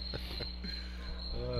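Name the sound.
crickets chirping in the background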